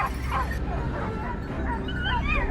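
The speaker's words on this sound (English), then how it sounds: "Alarm barks echoed through the air, and Thomas and his team immediately braced" Hunting dogs bark and yip excitedly in the field during a wild boar hunt, several high, whining yelps and barks in quick irregular bursts over a rumbling outdoor background.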